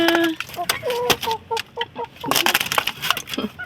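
Pet chickens in a rural yard cluck and make short tonal calls in quick, uneven bursts close by, mixed with light rustling and scratching sounds.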